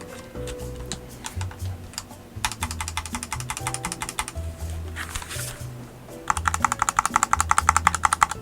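A Kemove K68 mechanical keyboard, a 65% kit with dry, loose plate-mounted stabilizers, typed on up close in quick clacking bursts separated by brief pauses, with the final stretch of keystrokes louder and denser.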